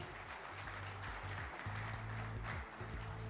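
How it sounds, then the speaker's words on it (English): An audience at a steel industry conclave applauds to welcome the Minister of Steel on stage, a faint, steady wash of clapping from a seated crowd with a low hum beneath. "with an encouraging round of applause, ladies and gentlemen"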